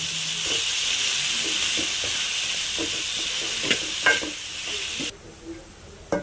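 Onion, tomato, tamarind and curry leaves are sautéed in a pan for a horse gram rasam, giving a steady close frying hiss with soft spoon knocks and stirring scrapes, the sizzle dropping away near the end.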